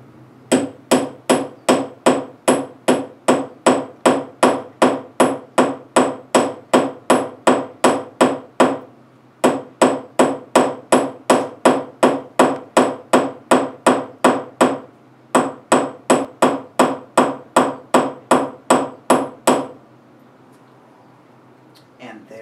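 A hammer strikes a large copper washer straight up and down in the same spot to texture it for earrings, a loud, close series of rapid, evenly spaced metallic taps broken by a couple of short pauses before stopping.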